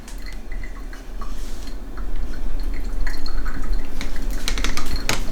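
Elderberry juice dripping as the berries are strained and mashed with a wooden spoon, giving close, irregular wet drips and small splashes with occasional soft scraping taps.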